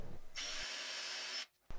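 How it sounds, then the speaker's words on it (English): A hammer drill bores a 3-inch hole into a basement masonry wall, one loud sustained whine of about a second, then it cuts off sharply. "I'll use a hammer drill to drill a 3-inch hole into the wall."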